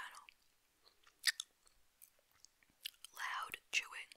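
Gum being chewed right at a small microphone, with soft wet smacks and clicks spread irregularly, a few louder crunchy bursts near the end, and faint whispering in between.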